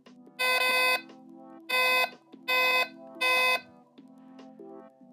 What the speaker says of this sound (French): c'est l'avertisseur sonore